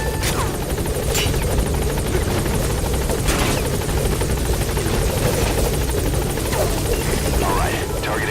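A helicopter in the video game Metal Gear Solid V: The Phantom Pain gives a steady, loud rotor drone throughout, with a few sharp clatters over the top.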